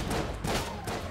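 A short burst of pistol shots from the Cooler Bullet Brothers handgun in Enter The Gungeon, a few punchy thumping reports over steady game noise.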